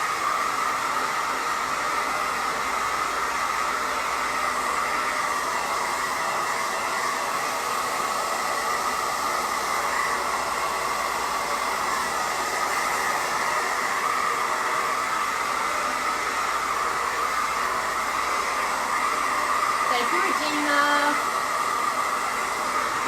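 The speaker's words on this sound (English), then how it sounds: "I want to try me a heat gun." A steady, loud blowing hiss from a heat gun runs continuously without a break, with a faint brief tone near the end.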